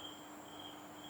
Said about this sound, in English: It's like these crickets outside.